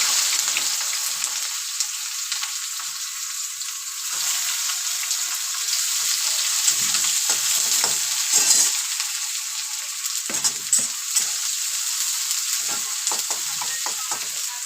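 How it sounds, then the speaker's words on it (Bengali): Chopped onion fries in hot oil for a stir-fry of taro stolons with prawns, a bright, steady hiss with frequent utensil scrapes and clinks against the pan, near and fairly loud with no speech. "তেলটা গরম হয়ে গেছে, এবার এর মধ্যে আমি কুচিয়ে রাখা পেঁয়াজটা দিয়ে দেব।"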